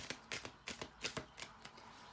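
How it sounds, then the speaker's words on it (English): A deck of tarot cards is shuffled by hand in a run of about eight quick, crisp riffling bursts with short gaps between them, close and fairly quiet, with no talk. "let's shuffle the card deck once more and see what's coming out for you guys"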